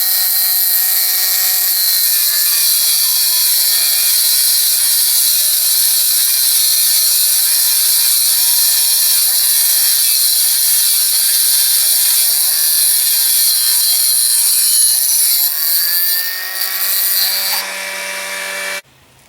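An abrasive wheel chop saw grinds through 12 mm thick metal, a loud, steady, harsh high-pitched screech that holds for most of the cut, then shifts and drops away abruptly as the wheel breaks through at the end; no talking.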